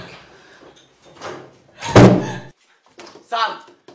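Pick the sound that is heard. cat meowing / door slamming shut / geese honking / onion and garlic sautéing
door slamming shut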